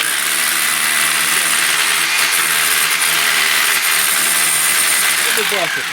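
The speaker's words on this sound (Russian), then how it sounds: "Перфоратор позастрял." A hammer drill bores into handmade brick during fireplace building, a loud, continuous, close grinding roar with a steady rhythmic hammering that holds throughout.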